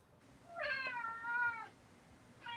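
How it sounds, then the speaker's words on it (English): A cat meows indoors, one clear drawn-out meow near the middle and the start of another at the end, fairly faint against a quiet room background with no talk. "I hear a kitty."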